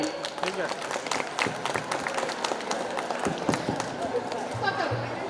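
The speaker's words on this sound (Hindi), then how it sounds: "जोरदार करताली" Loud applause from a stage audience, dense clapping with crowd noise that stays steady and near throughout.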